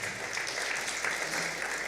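Conference attendees at a wildlife scientific conference clap in brief, steady applause, a short burst of moderately loud clapping with no voices over it.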